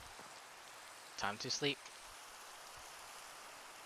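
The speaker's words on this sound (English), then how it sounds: "it started raining" Steady rain falling in the Minecraft world, a constant broadband hiss throughout, with a person briefly speaking over it midway.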